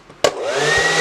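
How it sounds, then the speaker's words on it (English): A hooded hair dryer switches on with a sharp click and then runs as a steady, loud whirring blow, drying a freshly washed wig. "I'm going to sit it in the dryer while I eat my breakfast and let it do its thing and dry"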